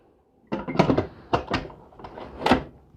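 A lid is fitted onto a Ninja Foodi Deluxe 8-quart pressure cooker, making a series of close plastic knocks, clatters and scrapes as it is positioned and settled, with no voices.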